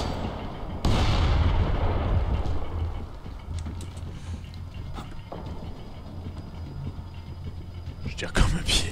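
Gunfire in Splinter Cell Blacklist starts with a sudden loud burst, then settles into a steady rumbling barrage that lingers in the background, with a sharp crack near the end and someone talking over parts.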